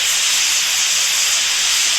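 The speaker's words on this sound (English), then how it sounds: "That's venting the steam" Steady, loud hiss of steam venting from a pressure canner while green beans are being canned, an unbroken broadband rush that holds even for the full two seconds.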